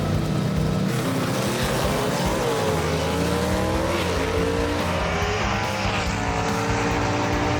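Gasser drag race cars launch side by side down the strip at Kil-Kare Dragway, engines roaring loud and close with rising, wailing revs that sweep upward as they accelerate away, filling the whole stretch.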